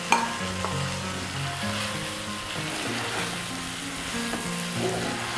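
Cooked rice stir-fried in a pan for mixed fried rice, a steady close sizzle with repeated scraping and tossing stirs throughout, and no voices.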